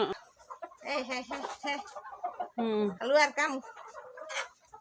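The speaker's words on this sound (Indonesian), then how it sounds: "Itu ayam saya." Chickens cluck in a home yard with a large garden, their bursts of clucking and squawking rising close by and interleaved with a person's nearby speech.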